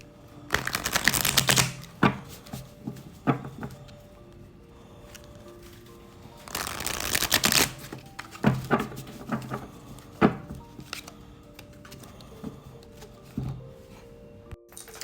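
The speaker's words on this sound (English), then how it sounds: "I'm going to shuffle the deck." A deck of tarot cards being riffled and shuffled in two loud bursts, with soft taps and handling clicks in between, close up and no talking.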